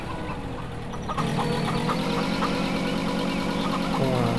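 A tractor engine in the video game Farming Simulator 2015 turns over and settles into a steady, droning idle with a low rumble, loud and continuous, with no talking.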